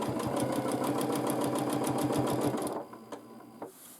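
A sewing machine quilting a baby quilt runs in a fast, steady stitching rhythm for under three seconds, loud and close, then stops, leaving a few faint clicks and handling noises.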